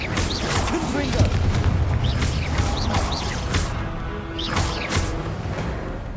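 A Confringo blasting spell goes off in Hogwarts Legacy, with booming, crackling bursts of magic rolling through the whole stretch amid other combat effects, and a voice speaking over part of it.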